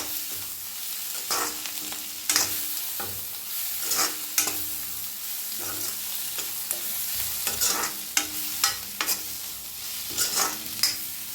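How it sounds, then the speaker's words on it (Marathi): Food is stirred in an iron pan, repeated scraping strokes at an uneven rhythm over a quiet sizzle, close by with no talking. "छान मिक्स करून घेऊया."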